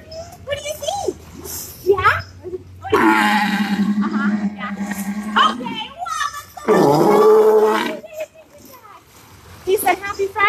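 Sea lion at an amphitheater show barking and roaring in long, loud, talk-like bursts, with a presenter speaking between the calls.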